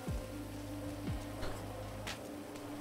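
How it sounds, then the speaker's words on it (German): Rain falling in the video game GTA V, a soft, steady hiss of drops with a faint low hum underneath, quiet and continuous throughout. "Ausnahmsweise nehmen wir den schnellen Laufstil, weil es ja regnet."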